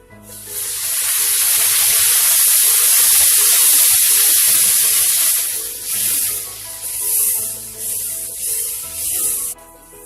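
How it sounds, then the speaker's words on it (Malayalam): Hot water poured into sizzling masala in a pan while cooking a chapati curry, giving a loud, steady hissing sizzle that surges for several seconds and then sputters and fades in uneven bursts. "നമുക്കിതിലേക്ക് സ്വല്പം ചൂടുവെള്ളം ഒഴിച്ചു കൊടുക്കാം"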